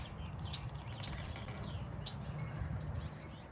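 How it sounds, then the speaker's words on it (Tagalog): Pet birds chirping indoors, with several short, high tweets scattered over a faint background hum, fairly quiet and close. "Sorry, maingay yung mga alaga ko ha. Alagang birds."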